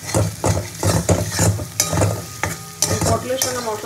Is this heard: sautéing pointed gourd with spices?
yes